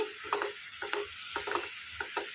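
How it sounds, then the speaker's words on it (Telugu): Finely chopped tomatoes stirred in a frying pan with salt, a soft background sizzle broken by five or six rhythmic scraping strokes of the spoon, close and moderate in level. "సన్నగా కట్ చేసుకున్న టమాటాలు వేసుకొని తిప్పేసుకోవాలండి"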